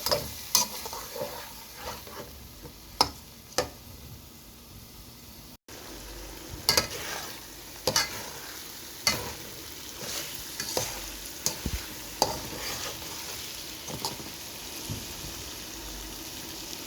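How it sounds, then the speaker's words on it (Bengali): Lentils are stir-fried with onion, ginger, garlic, turmeric and chilli in a pot, with a steady sizzle broken by sharp scraping stirs of a spoon at irregular intervals, close by and with no talking. "ডালটা একটু কষিয়ে নিচ্ছি"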